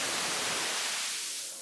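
Steady hiss of blue noise from a Dreadbox Chromatic modular synth module, bright and dense across the whole clip with no voice over it, thinning slightly in the low end and fading a little at the end.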